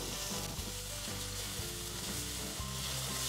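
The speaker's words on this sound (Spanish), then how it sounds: "Pues aquí le vamos a agregar la cebolla y el ajo." Onion and garlic sauté in hot oil in a pot, giving a dense, steady sizzle throughout with a few soft knocks of stirring underneath.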